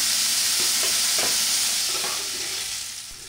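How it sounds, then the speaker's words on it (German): Bacon pieces and rind fry in a pan with a steady, close hiss, punctuated by a few soft scraping stirs, and the sizzle fades slightly toward the end. "Ein paar Minuten später folgt dann der restliche Speck."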